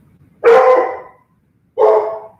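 Two loud, close dog barks, the second a little shorter, separated by about a second of silence.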